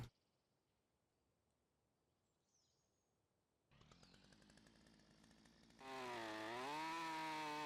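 A chainsaw in Lumberjack Simulator starts after a quiet stretch with a faint bird chirp, idles with a rattling putter, then revs up to a loud, full buzzing roar as it cuts into a log.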